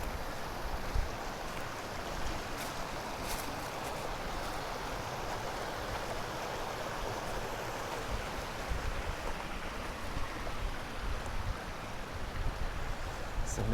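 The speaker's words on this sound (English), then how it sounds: "Just tons of water, tons of little waterfalls." Small waterfalls and rushing water along the Appalachian Trail, a continuous broad roar of flowing water heard up close with some wind buffeting the microphone.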